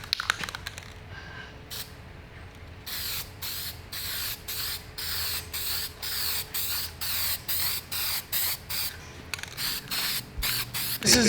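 Spray paint hisses from a can onto a casket-shaped go-kart in quick repeated bursts, short blasts at first and then a steady rhythm of pulses close to the mic, with no voices over them.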